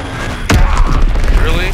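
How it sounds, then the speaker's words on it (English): A bomb explodes in Call of Duty WWII multiplayer: one sudden heavy blast lands with a low rumble that rolls on under game chatter and battlefield noise. "Enemy bomb incoming."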